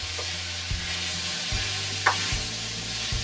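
Meat browning in a pan for a smoked queso dip, giving a steady sizzle with a few dull stirring knocks and scrapes at regular intervals. No voices.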